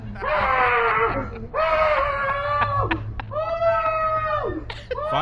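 A man screams in pain during a fight, letting out three long, loud, strained wails, each held about a second and breaking off between them, close and raw.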